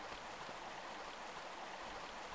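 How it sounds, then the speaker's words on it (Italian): Water flows continuously in the Lost Valley level of the 1996 Tomb Raider game, a dense, even rushing of a stream or falls that stays at a steady level throughout. "Beh, Lara, ributtiamoci in acqua adesso."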